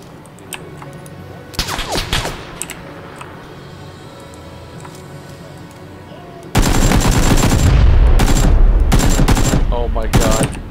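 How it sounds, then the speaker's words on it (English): Gunfire in the shooter PUBG crackles in short bursts early on, then a loud sustained blast of heavy gunfire and explosive noise takes over for the last few seconds, with faint game ambience underneath. "Grenade."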